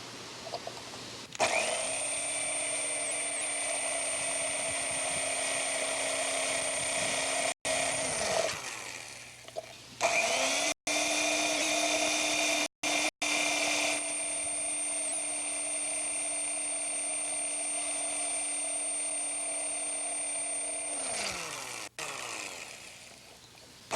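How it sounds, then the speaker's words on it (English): A power drill boring holes into a surface, running in two long sustained bursts of steady whine with a short pause between them, loud and close with no talk. "So we drill on each of the 4 squares"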